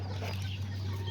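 Small chickens and roosters cluck softly from a flock kept close by, a steady low murmur over a constant hum.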